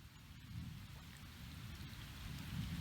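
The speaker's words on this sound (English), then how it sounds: "it's raining hard" Heavy rain falls around a kayak on the water, a steady, soft hiss of drops with a low rumbling undertone that swells slightly toward the end, with no voices.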